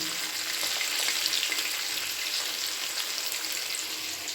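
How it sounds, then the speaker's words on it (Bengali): Potatoes frying in hot oil while cooking a cauliflower dish, a steady, close crackling sizzle that holds evenly throughout without voices. "এখানে আলুটাকে ভাজতে দিয়েছিলাম, আলুটা কিন্তু একদম লাল লাল ভাজা হয়ে গেছে।"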